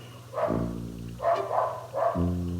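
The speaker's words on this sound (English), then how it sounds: "Sorry about the dogs." Dogs bark in three quick, fairly close bursts a short gap apart, each a throaty, tonal yelp.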